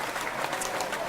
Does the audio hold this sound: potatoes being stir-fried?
no